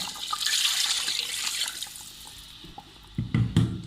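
Water poured into a cooking pot while making nihari: a hissing, splashing stream that holds steady at first and fades, followed by a few louder knocks and splashes near the end.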